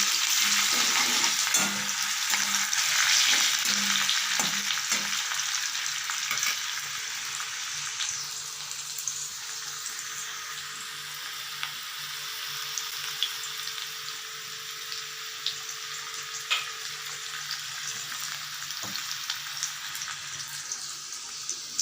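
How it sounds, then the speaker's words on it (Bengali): Onions and spice paste frying in a pan for rajma, a steady close sizzle with stirring clatter in the first few seconds, then a continuous hiss with occasional small clicks, no voices. "এবার পেঁয়াজ দিয়ে দিলাম, কিছু বাটা"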